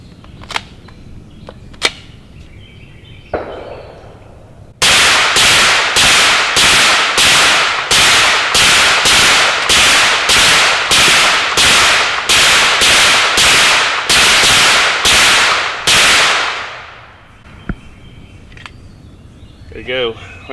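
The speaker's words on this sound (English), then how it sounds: "So let's do some shooting." A suppressed Hi Point 9mm carbine fires 115 grain full metal jacket rounds in a rapid, evenly spaced string of about twenty sharp, loud cracks, with brief quiet handling sounds before and after.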